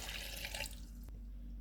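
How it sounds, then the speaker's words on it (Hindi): Water streams into a jug holding dates and jaggery for a golgappa recipe, a soft splashing pour that stops abruptly about a second in, leaving a low steady hum. "और इसमें पानी डाल देंगे।"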